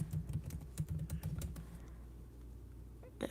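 Fast clicky typing on a computer keyboard, a close burst of keystrokes that slows and then stops, with a few isolated taps near the end.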